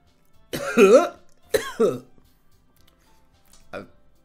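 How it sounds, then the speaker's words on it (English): A voice produces two deliberate, slightly strained coughs in close succession, followed by a softer throat-clearing sound a moment later. "A questioning cough is a little bit hard to do."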